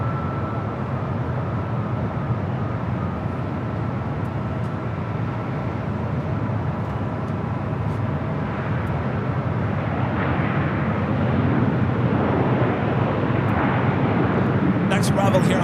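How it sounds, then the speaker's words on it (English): Southwest Airlines Boeing 737-700 arriving at LAX on the north side, a broad, loud jet roar swelling gradually as the plane approaches, heard together with outdoor airport ambience. "Next arrival here on the north side is a flight coming from Oakland, California. Southwest Airlines flight 2425, 737-700."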